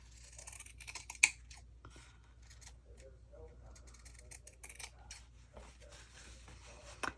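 Scissors snip through paper close by, a few soft crisp cuts with one sharp click, while someone talks quietly over them.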